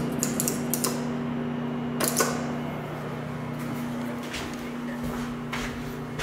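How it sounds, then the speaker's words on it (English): An original U.S. traction elevator running at a Myrtle Beach beach resort tower, with a steady low mechanical hum and a few faint clicks and creaks, heard close and quiet with no talk. "This is the elevator itself."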